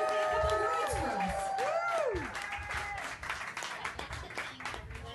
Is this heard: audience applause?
yes